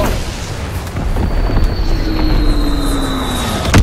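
Enemy artillery explosions in the World War II video game Call of Duty: WWII, heard as a loud, continuous rumbling barrage of booms with a whistling shell sweeping across, no talking.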